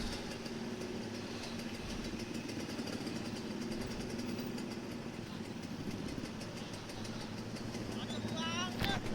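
Motorcycles and cars sit idling in a heavy traffic jam, their engines blending into a steady, dense hum that continues throughout the clip.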